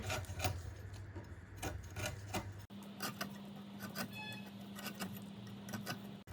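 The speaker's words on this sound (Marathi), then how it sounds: "अशा प्रकारे ना मी या सर्व कारंद्याची बघा आता साल काढते" Close scraping and rasping as the tough skin is peeled from karande tubers by hand, a steady series of short rubbing strokes with a low background hum, no talking.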